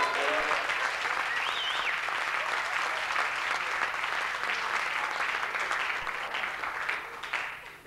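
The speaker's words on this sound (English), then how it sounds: "Give her a big round of" Sustained audience applause at an airline cabaret show, dense and steady clapping from a full room that holds for several seconds before easing slightly at the end.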